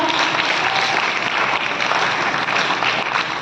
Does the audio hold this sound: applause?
yes